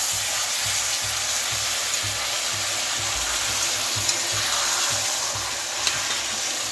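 Olive pickle with jaggery and water simmering in a pan gives a steady, dense sizzle and bubbling hiss that carries on unbroken throughout, with no talking.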